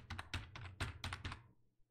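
Keys clatter on a computer keyboard in a quick, uneven run of soft clicks and taps, quiet and close, trailing off into silence near the end.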